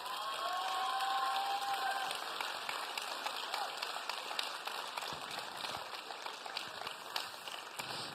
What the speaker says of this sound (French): Yannick Véry, Adrien Gibier et Maëna Géraud, si vous voulez bien les applaudir